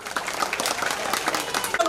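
Children clapping together at a school event, a steady rattle of many hands that runs the whole time, fairly close and moderately loud.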